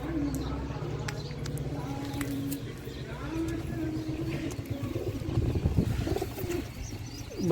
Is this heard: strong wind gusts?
no